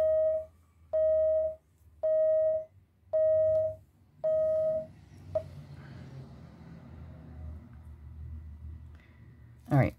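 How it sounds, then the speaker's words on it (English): A laundry timer beeps five times in a steady rhythm of long, loud electronic tones, then falls silent as quiet room noise and a faint voice continue, ending with a sharp loud knock. "Oh, and there's my timer for my clothes."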